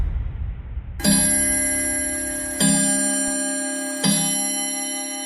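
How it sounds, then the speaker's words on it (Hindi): A wall clock strikes three o'clock: three loud, ringing chimes about a second and a half apart, each with a long sustained decay, alone over a quiet background. "तभी दीवार घड़ी पर 3 बजने की आवाज हुई।"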